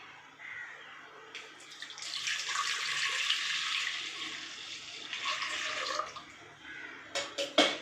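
Milk being poured into a thick cooking pan while making Chettinad-style pal kolukattai, a steady splashing pour for several seconds, close and fairly quiet, ending with a few clinks.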